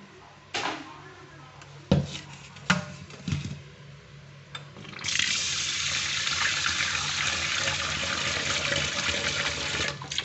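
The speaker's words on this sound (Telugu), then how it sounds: "రెండు మూడు సార్లు వాష్ చేసుకుందామండి." Food is rinsed under running water: a few sharp clanks and knocks of a vessel come first, then a steady, loud gush of tap water that runs to the end.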